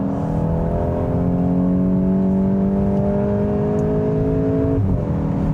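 A 2025 Volkswagen GTI hot hatch accelerates hard with a seven-speed transmission, its engine droning in a steady rising pitch from inside the cabin, then briefly dipping as it shifts gear near the end.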